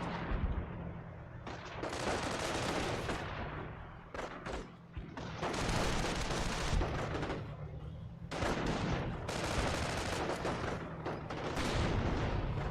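Mortar rounds burst around a machine-gun team in a Company of Heroes battle, broad rumbling blasts mixed with crackling gunfire arriving in repeated heavy waves over a steady battlefield din.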